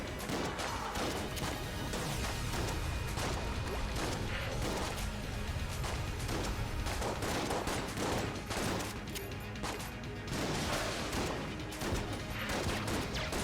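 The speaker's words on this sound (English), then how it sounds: "This gun is way too slow." Rapid gunfire from a slow weapon in the game Enter the Gungeon: dense, repeated shots and impacts crackle steadily with brief lulls, loud and up close, with no talking.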